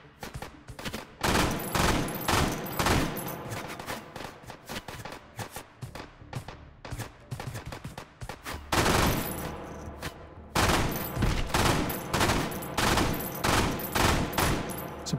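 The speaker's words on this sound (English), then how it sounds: "Suppressing fire, huh?" Sustained WW2 machine gun suppressing fire in the VR shooter Hot Dogs, Horseshoes & Hand Grenades, loud dense bursts of rapid shots rattling nearly nonstop with a short lull near the middle.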